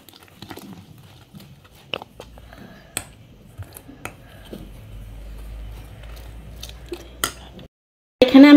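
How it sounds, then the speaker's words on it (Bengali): Chocolate cake batter ingredients are mixed in a bowl, with a run of scattered light clinks, taps and scrapes of a utensil against the bowl, close and fairly quiet, ending with a brief louder knock. "এবার আমি সবগুলি উপকরণ একসাথে মিক্স করে নেব"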